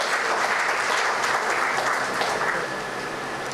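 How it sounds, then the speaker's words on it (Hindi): Sustained, dense audience applause fills the hall at a Human Rights and World Environment Day event, steady and loud throughout before easing slightly near the end, with no voices over it. "जोरदार तालियों से उनका स्वागत करें"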